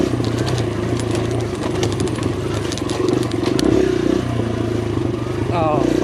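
A 2023 Kawasaki KLX140RF dirt bike running on trails, its engine droning steadily and loudly with rattling clatter throughout, while someone talks over it.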